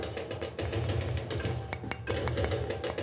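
Metal balloons in the video game Bloons TD 5 are struck, giving rapid clinking metallic taps over dense, busy game background sound.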